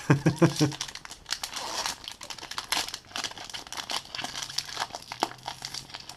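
Crinkly plastic foil of a Magic: The Gathering Final Fantasy play booster pack being torn open and crumpled, loud and close, with brief talking mixed in.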